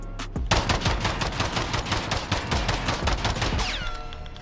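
A Roland Special Glock fitted with a compensator fires in Modern Warfare, a fast, loud automatic burst of evenly spaced shots lasting about three seconds, then trailing off into a ringing tail.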